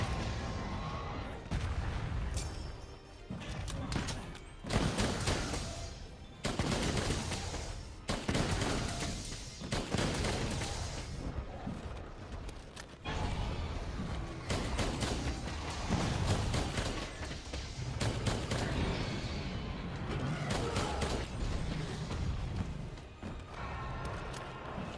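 Light bowgun fire in Monster Hunter during a hunt against a tempered Kushala Daora, with repeated loud shots and impacts in a steady rapid rhythm over dense game noise across the whole stretch.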